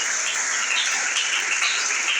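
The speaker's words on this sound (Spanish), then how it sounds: "Dele ese aplauso al Señor" Steady, dense applause from a congregation at a church service, a continuous wash of clapping without pauses or voices.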